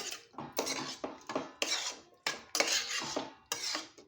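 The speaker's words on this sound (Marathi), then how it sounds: "छान अशी मिक्स करून घेऊया" A spoon clanks and scrapes against a pan while bottle gourd and chana dal sabji is mixed with the gas turned off. About eight sharp, close metallic strokes come in an even rhythm, with no talking.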